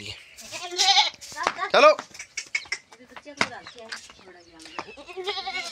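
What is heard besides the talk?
goats bleating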